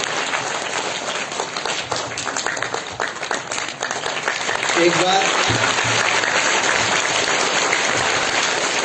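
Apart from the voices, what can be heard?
audience applause welcoming a guest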